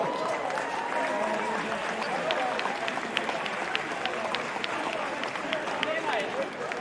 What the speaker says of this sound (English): both teams deserve a good hearty round of applause